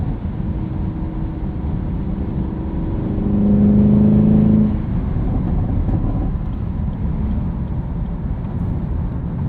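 A Chevrolet Camaro SS 1LE with its LT1 V8 and six-speed manual pulls in fifth gear on a morning commute, a low steady drone that swells briefly with a rising tone before settling back to cruising rumble.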